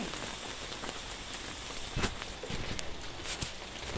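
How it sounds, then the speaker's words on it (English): Hail outdoors, a dense steady patter of icy pellets hitting the ground, with scattered crunchy footstep sounds as someone walks over it. "Everywhere I step, there's hail."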